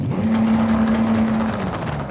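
A GMC Typhoon engine in Forza Horizon 5 idling with a steady, loud drone and a constant low hum, its tone unchanged throughout, with no speech.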